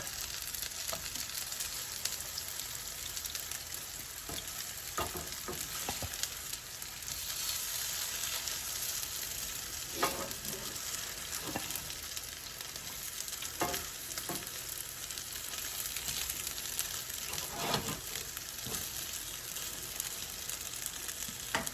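Leftover mashed potato cakes fry in a pan with a steady, dense sizzle throughout, broken by occasional soft scrapes and taps of a utensil, no voices.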